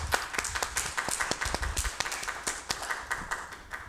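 Warm audience applause for illustrator R. Gregory Christie at a children's book illustration event, steady scattered hand claps from a modest crowd, moderately distant and continuing evenly throughout.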